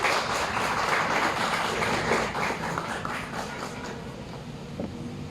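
An audience applauds at the launch of the book "Sauna," a sustained patter of many hands in a room that gradually softens toward the end.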